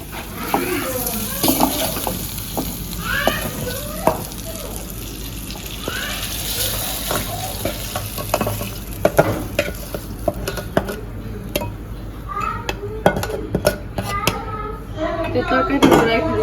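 Food heating and being stirred in a frying pan in a home kitchen, with a steady loud sizzle, scraping stir strokes and some watery splashing throughout, under a voice talking.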